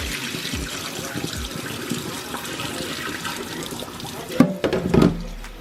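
Tap water running into a pot while black-eyed peas are rinsed, a steady close splashing rush with a few louder sloshes and clunks near the end.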